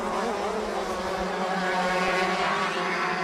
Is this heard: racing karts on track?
yes